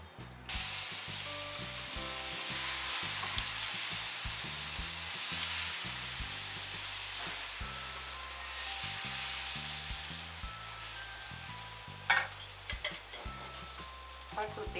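Bajra (millet) flour pudla cooking in oil on a pan, giving a steady hiss and sizzle that stays close and continuous, with one brief clatter near the end.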